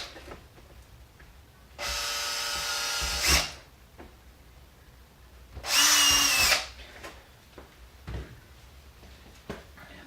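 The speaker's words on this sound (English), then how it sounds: "drill holes into the speaker pod in the center of the holes you marked for the speaker" Power drill boring holes into a speaker pod for a 2007–2014 Chevrolet Silverado component speaker kit: two close, loud whirring bursts, the first longer than the second, separated by quiet pauses with no talking.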